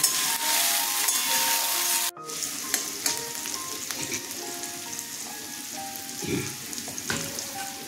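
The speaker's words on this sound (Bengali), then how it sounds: "দেখুন, আমি এরকম পেঁয়াজগুলো ভেজেছি, আধ ভাজা করেছি" Onions sizzle and crackle in oil as they are half-fried, not fully browned, interrupted by a short break, then the frying resumes with scraping stirs of a spoon in the pan.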